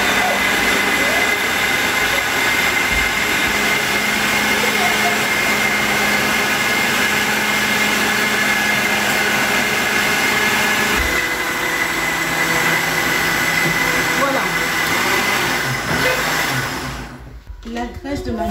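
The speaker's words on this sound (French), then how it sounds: "j'ai mes 2 bananes dans mon blender" An electric blender whirs steadily, blending two bananas for a homemade hair mask, a loud continuous high-pitched motor drone that shifts pitch midway and cuts off near the end.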